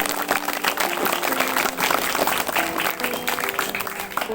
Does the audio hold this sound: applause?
yes